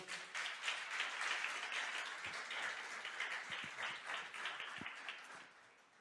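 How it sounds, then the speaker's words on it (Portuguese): A church congregation applauding during a sermon, a broad wash of many hands clapping that holds steady, then thins and fades toward the end, heard at a moderate distance. "Você pode aplaudir o Senhor?"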